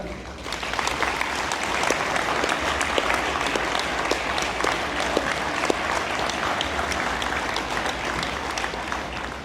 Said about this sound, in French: accompagnons M. Trudeau à sa table sous les applaudissements.